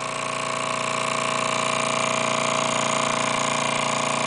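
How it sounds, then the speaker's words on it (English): A small engine drives an electricity generator, giving a steady, continuous mechanical hum with a fine rapid pulse, running evenly and close up with no talk. "Stop the engine."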